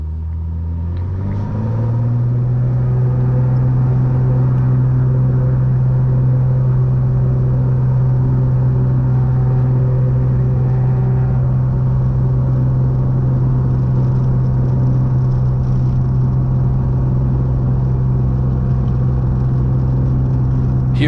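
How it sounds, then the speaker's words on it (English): A small airplane accelerates through its takeoff roll, the engine rising over the first two seconds into a loud, steady, close-up droning hum that holds evenly to the end with no talking. "Here comes the white line as we accelerate on the takeoff roll."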